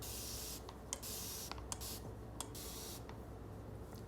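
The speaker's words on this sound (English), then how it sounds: "I'm just gonna show you guys as I spray it." Repeated spritzes of water from a spray bottle onto freeform locs hiss in short bursts over a constant low background noise, close and fairly quiet.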